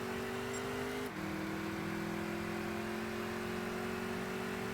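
Car engines in the Gran Turismo 6 racing game, a constant droning whine whose pitch drops suddenly at a gear change and then climbs slowly again, fairly quiet and steady.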